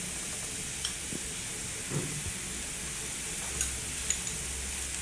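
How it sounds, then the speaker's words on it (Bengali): Ginger garlic paste frying in a pan with browned onions makes a steady, even sizzling hiss throughout, broken by a few faint stirring ticks and light clicks. "এখন আমি এর মধ্যে আদা রসুন বাটা দিয়ে দিলাম"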